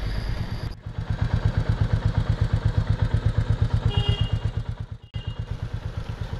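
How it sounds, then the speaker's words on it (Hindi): A Royal Enfield Meteor 350 with a BS6 EFI engine idles close up after starting, its single cylinder thumping in an even, rapid pulse, with a brief dip partway through before the steady beat resumes. "ये ऑन कर दिया, EFI engine again, and then you start the bike using this."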